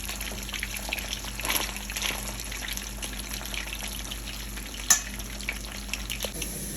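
Fish frying in a pan of hot oil on a home stove, a steady close sizzle and crackle with light spattering pops throughout and one sharper pop midway, no talking.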